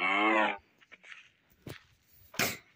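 A Minecraft cow moos once, a loud harmonic call up front, followed by soft game clicks and two short bursts of in-game noise, with no talking.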